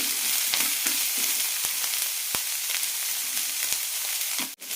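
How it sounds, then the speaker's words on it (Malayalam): Vegetables and uncooked green peas sauté in a pan for jowar upma, giving a loud, continuous close sizzle broken by regular clicks and scrapes of a spoon stirring. "2-3 മിനിറ്റ് നന്നായി വഴറ്റിയെടുക്കാം"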